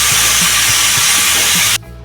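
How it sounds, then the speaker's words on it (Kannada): A pressure cooker full of chicken biryani vents steam in a loud, continuous close hiss that cuts off abruptly near the end, leaving a quiet kitchen. "cooker 3 whistle ಕೂಗಿದೆ"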